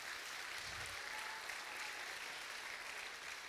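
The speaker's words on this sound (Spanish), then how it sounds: "dele fuerte otro aplauso al Señor" Church congregation applauding steadily and fairly loudly, a dense even wash of clapping from many hands throughout, with no voices standing out.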